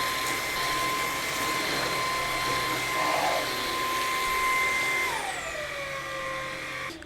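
Bissell CleanView XR Pet vacuum cleaner running on max mode, a loud continuous motor whine near the microphone that holds steady, then winds down in pitch toward the end as the motor slows.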